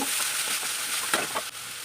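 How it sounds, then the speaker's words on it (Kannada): Curry leaves, ginger, garlic and onion fry in hot oil with cumin, a steady close sizzle broken by a few louder spits and stirring scrapes. "ಬೇಸೊಪ್ಪು ಶುಂಠಿ ಬೆಳ್ಳುಳ್ಳಿ ನೀರುಳ್ಳಿ ಸರಿ ಫ್ರೈ ಮಲ್ತನೋಡು."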